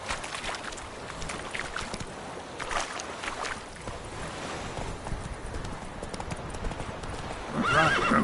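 A horse gallops in The Witcher 3, its hooves beating in a steady clip-clop over a windy outdoor game ambience, with a brief whinny near the end.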